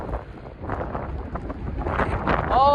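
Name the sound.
strong wind at the beach at night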